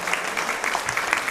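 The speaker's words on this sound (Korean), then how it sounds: "다시 크게 우리 박수로 축하드리겠습니다." A Methodist church congregation applauds during a Sunday service, a dense, steady patter of many hands clapping at moderate distance.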